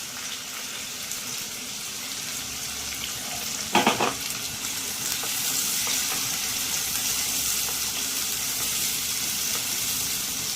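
Chopped onion and slit green chillies fry in a pan, a steady close sizzle with a sharp clatter of stirring partway through. No one speaks.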